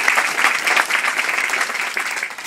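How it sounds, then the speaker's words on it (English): An audience applauds at a talk on housing and healthcare, with dense, steady clapping from many hands throughout, close and loud. "Let's give Jim another great round of applause."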